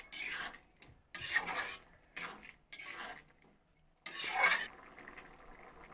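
Ghugni made with chickpeas being stirred in a pan after garam masala powder goes in, a spoon scraping and rubbing in several separate rasping bursts with short pauses between them, close and fairly quiet.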